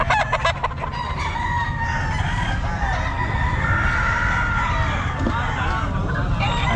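White Kelso roosters crow repeatedly at a busy Bocaue pet market on a wet, drizzly day, several birds overlapping with clucking amid constant crowd chatter and market noise.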